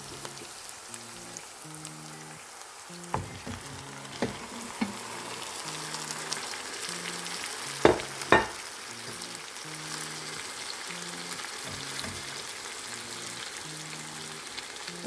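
Chopped tomatoes fry in a pan for menemen, a soft steady sizzle with occasional clicks of a spoon stirring against the pan, quiet and close under faint background music.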